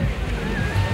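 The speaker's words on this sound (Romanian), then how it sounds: "Costinești, plajă, aia e marea" Sea waves at Costinești beach give a loud, rough surf wash blended with wind buffeting on the microphone, brief and continuous.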